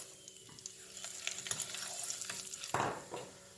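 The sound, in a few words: green chillies and spices frying in olive oil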